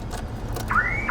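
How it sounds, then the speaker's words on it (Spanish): A car alarm sounds, a warbling electronic tone rising and holding, starting partway through after a brief quiet stretch of low background noise. "yo ahorita voy a activar nuevamente mi alarma"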